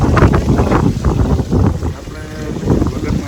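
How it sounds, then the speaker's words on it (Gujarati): Wind gusts outdoors beside a house and a garden of cactus plants buffet the microphone with a loud, rough, steady roar that swells and dips throughout, with no talking. "પવન તો સારો આવે."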